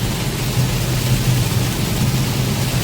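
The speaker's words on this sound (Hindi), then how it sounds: "मस्त बारिश हो रही है एकदम जबरदस्त।" Heavy rain pours down on a highway drive between Solapur and Hyderabad, in a dense, steady roar with no letup and no voices.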